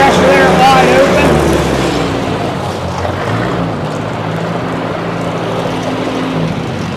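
A 1964 Ford 4000 tractor engine runs at wide-open throttle, a loud, steady, rough roar close by with a slight dip in level after the first seconds.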